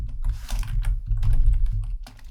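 Rapid typing on a computer keyboard while writing JavaScript code, with dense clustered keystrokes in bursts and brief pauses, close and fairly loud with a low hum underneath.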